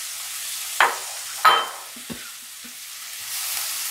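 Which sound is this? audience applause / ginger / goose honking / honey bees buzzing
ginger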